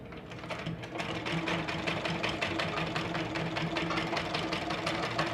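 Sewing machine stitching a frill blouse, a steady close, rapid mechanical whir with a fast even stitching rhythm running throughout at constant loudness, with no talking.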